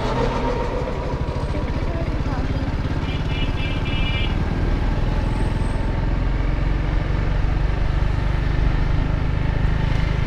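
A motorcycle ridden on the road by a lady rider changing gears, its engine thrumming in a steady, loud, close drone with faint revving shifts, while a person speaks over it.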